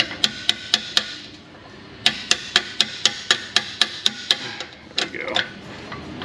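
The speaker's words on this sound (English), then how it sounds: "Let's hammer this in with a bigger hammer." Sharp metallic hammer strikes drive a part into a 2012 Chevrolet Avalanche 5.3 4x4, a quick run of evenly spaced blows, then a longer steady series, loud and close with brief voices near the end.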